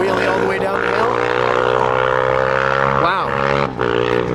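Engine of a vehicle doing a long wheelie down a hill at a canyon car meet, a loud sustained droning rev with a pitch sweep near the end, with people talking nearby.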